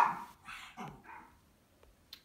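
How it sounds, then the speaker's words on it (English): Several dogs bark in short, sharp bursts with a yip or two, fairly close and loud at first, then fading to scattered faint sounds with no talk over them. "the dogs are out, and you can probably hear them barking in the background"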